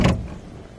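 A single short thud from the rear doors of a Mercedes-Benz Sprinter van in the OMSI 2 simulator, sharp at the start and quickly decaying into near silence, with no voices.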